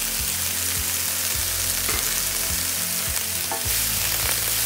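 Grated carrot frying in a pan for a Salvadoran-style chicken sandwich filling, with a dense, constant sizzle and a few dull stirring knocks beneath it, no talking.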